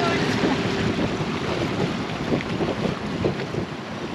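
A sailboat pulls away on open water off Manihiki in the Cook Islands, heard as a steady rush of wind across the microphone and wash of waves, loud and constant with no clear engine.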